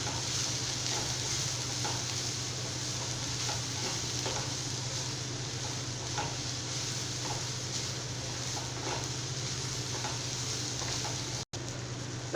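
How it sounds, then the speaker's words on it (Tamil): Ingredients for a coconut chutney sizzle and fry steadily in a pan, a soft continuous hiss with faint stirring scrapes and no voices. "இப்போ இது எல்லாமே சேர்த்து நல்லா வதக்கியாச்சு"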